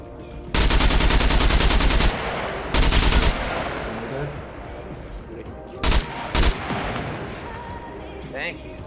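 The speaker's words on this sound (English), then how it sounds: "Let me shoot the fucking bomber below me." Gunfire in the video game Scum, with two long bursts of close, loud automatic fire followed later by a few sharp single shots and quieter background battle sounds.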